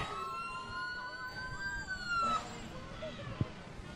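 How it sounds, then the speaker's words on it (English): A wailing West Fargo Fire Department fire engine siren sweeps up and down close by during a holiday lights parade, then breaks off, with crowd chatter and street noise around it. "Some sirens from the fire engines."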